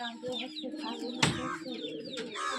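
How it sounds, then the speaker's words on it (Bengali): Close pigeon coos and soft throaty calls mixed with other bird chatter, one sharp burst midway, in a short busy stretch. "এই পায়রা আপনারা দেখুন"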